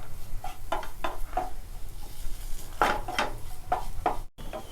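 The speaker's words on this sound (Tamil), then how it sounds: "பருப்பு நல்லா வறுபட்டுருச்சு." Lentils (dal) dry-roasting in a pan for a drumstick-leaf paruppu usili, with a utensil scraping and clinking against the metal pan in a run of short, close stirring strokes.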